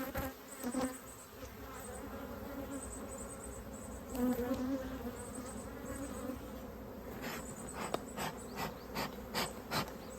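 Honey bees buzz around opened hives and mini mating nucs being stocked, a close, dense swarm hum rising and falling, with wooden scraping and knocks of hive boxes being handled.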